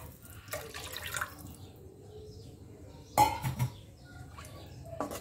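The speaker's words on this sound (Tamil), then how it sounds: "தண்ணியை 2 கப்ஸ் ஆஃப் வாட்டர் ஆட் பண்ணுங்க." Water pours into a pan for Drunken Maggi noodles, with soft splashing and a few sharp clinks of the pan at close range. The kitchen is quiet apart from these brief sounds.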